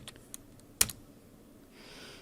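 Typing on a computer keyboard, a few sparse key clicks and one sharper keystroke in a quiet room, close and clear with no speech.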